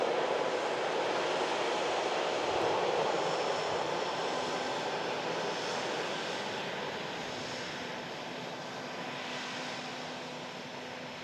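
A Ryanair Boeing 737 Max 8200 jet roars steadily at Manchester Airport, a broad engine rumble that slowly fades as it moves away, with no talk over it.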